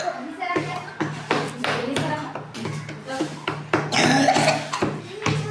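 A child coughs repeatedly on a cold, foggy winter day, with sharp bursts every second or so and some throat-clearing sounds in a close, noisy setting.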